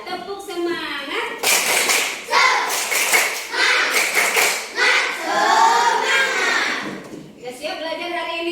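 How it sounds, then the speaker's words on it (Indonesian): A classroom of Indonesian schoolchildren performing a tepuk semangat clapping chant, rapid rhythmic group clapping in bursts mixed with chanted voices, loud and close, with a teacher's voice leading at the start and end. "tepuk semangat"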